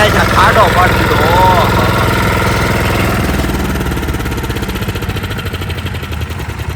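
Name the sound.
Captain 280 horsepower tractor engine running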